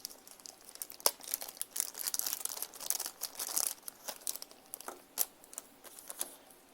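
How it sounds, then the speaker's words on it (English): Small balms are pulled out of a little plastic bag, giving close, irregular crinkling and rustling with sharper crackles scattered throughout, fairly quiet. "I'm going to take them out the little plastic bag"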